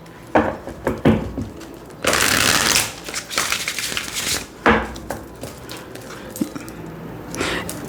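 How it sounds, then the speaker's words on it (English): An oracle card deck being shuffled close up, with bursts of riffling and flicking cards, a longer continuous riffle in the middle, and scattered taps and handling sounds. "I'm gonna shuffle this deck."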